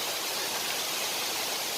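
Vazhappara waterfall, a cool, forest-ringed cascade, gives off a steady, dense rush of falling water that stays even and unbroken throughout, with no voices over it.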